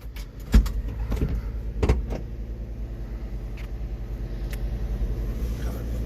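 A John Deere minitruck drives along with a continuous low engine rumble. A few sharp knocks and rattles sound near the start, then an even drone continues.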